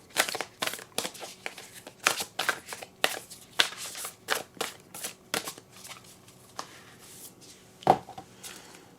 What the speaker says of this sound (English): we are going to go ahead and throw a Whispers of Love Oracle card